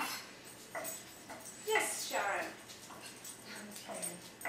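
A dog in a home kitchen lets out a few short, high-pitched whimpers and whines, mixed with people speaking nearby.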